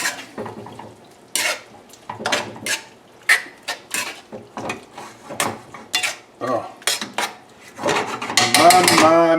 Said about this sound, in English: Use a regular spoon instead of a slotted spoon so I get the sauce evenly dispersed here.